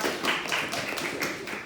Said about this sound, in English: you can give her an applause